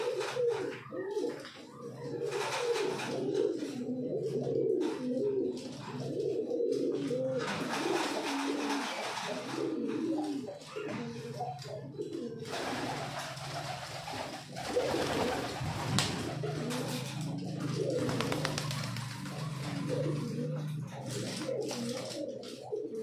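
Pigeons coo steadily in low, throaty, rolling calls, several birds overlapping close by for a long stretch with no pauses.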